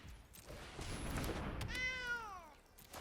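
Cat meow sound effect in the MTG Arena video game as a cat card is played, a single clear, close meow with a falling pitch rising over a busy game soundscape.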